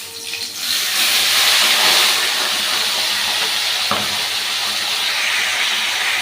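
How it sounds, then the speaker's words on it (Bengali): Chicken gizzard and liver dropped into hot oil, a loud hiss that rises sharply within the first second and then holds as a steady, close sizzle. "চলুন এবার এই তেলের মধ্যে এই মাংসগুলোকে দিয়ে দেবো। প্রথমে দিলাম আমার গিলে মেটেটা।"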